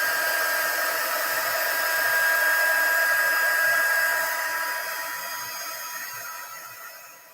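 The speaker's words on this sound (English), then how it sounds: "And our heat tool." An embossing heat gun blows hot air while setting embossing powder for stamping craft, a steady whooshing hiss with a faint whine, close and continuous, slowly fading at the end, no talk.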